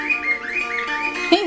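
Pet cockatiel whistling a melodic tune along to a theme from a Clint Eastwood western, clear and close, with sustained warbling notes over music.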